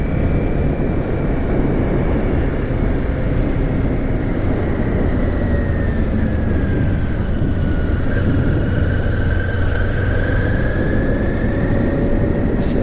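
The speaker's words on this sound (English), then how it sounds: "listen to some of the ambient sounds of the wind and the engine revving" A car rolling through a neighborhood at night to view Christmas lights gives a steady, unbroken drone of engine and wind noise. A faint tone rises and falls slightly over the hum, and no one speaks.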